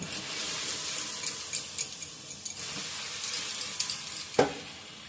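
Eggplant slices fry in hot oil in a pan, a dense continuous sizzle and crackle heard close up, with a few faint clicks and one sharper knock near the end, and no voices.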